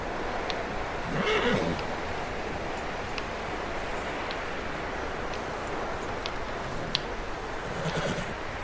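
A horse in the video game Red Dead Redemption 2 whinnies once early on, followed by a steady wash of ambient noise with faint scattered clicks throughout.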